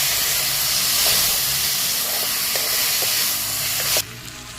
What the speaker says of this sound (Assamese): ইয়াতে এই কচুখিনি মই এতিয়া দি ল'ম। এইখিনি দি লৈ ধুনীয়াকৈ অকণমান লৰাই মই এইখিনি ভাজি ল'ম অলপ টাইম।